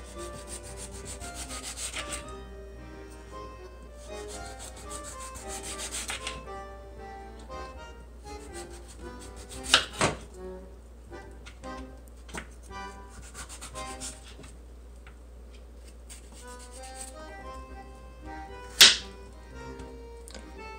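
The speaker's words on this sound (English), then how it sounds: "And then I just take my knife down around the edge in a curved motion like that." A knife scrapes and rubs along the skin of a butternut squash in long, curved strokes, with a steady low hum underneath and two sharp knocks partway through.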